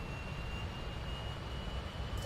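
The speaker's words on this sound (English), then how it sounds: "let you listen to the engine start up" Aircraft engine starting up in Microsoft Flight Simulator 2020, a steady droning whine with a constant high tone over broadband rumble, faint and unbroken throughout with no talk.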